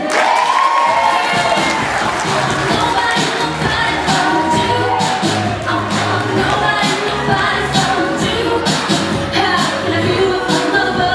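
A large crowd cheers and claps continuously for pageant candidates, with shouts and whoops rising over a steady roar of applause.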